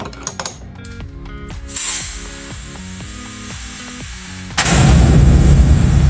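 A wrench works loose the battery terminal on an NP Pajero, giving a quick run of close, sharp ratchet clicks followed by a sudden louder burst of noise near the end.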